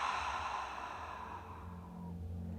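A long, slow sighing exhale through the nose or mouth during a calm yoga breathing exercise, soft and airy, fading gradually over a couple of seconds, close and alone.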